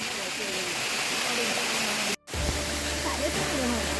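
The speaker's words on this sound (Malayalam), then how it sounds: "വളരെ മനോഹരമായ വെള്ളച്ചാട്ടം" A scenic waterfall roars as a steady, loud broadband rush, interrupted by a brief cut midway before resuming just as strongly, with a faint voice underneath.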